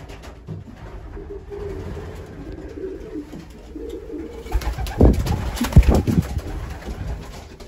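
Pigeons in a loft coo low and repeatedly, close by, while sharper fluttering and scuffling bursts rise in the later half over a steady rumbling background.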